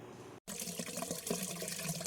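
Tap water pours steadily into a container, a continuous close splashing rush after a brief silent gap at the start.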